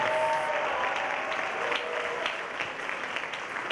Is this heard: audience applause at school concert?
yes